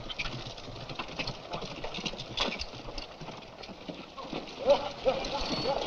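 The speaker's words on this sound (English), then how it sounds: "Rider coming fast, followed by a loose horse." Hooves clatter in a quick, uneven rhythm as horses approach at speed, with faint voices and outdoor noise underneath.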